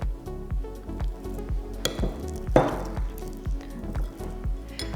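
Softened butter being stirred with mustard, pepper and salt in a bowl, giving soft repeated squishing and scraping strokes at a steady rhythm, close and moderately loud, with no talking.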